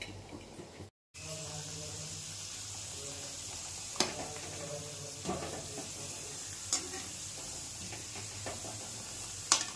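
Food frying in a pan at home, a continuous close sizzle broken by a few sharp stirring knocks, with no talking.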